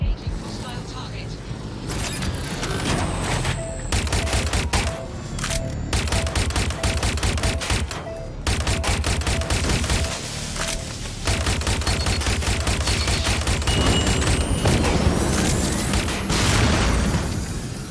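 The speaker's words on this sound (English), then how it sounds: "they're shooting at us!" Rapid gunfire from the video game Watch Dogs Legion, dense volleys of sharp shots and booms crackling nearly nonstop, loud and close, with brief gaps and some speech mixed in.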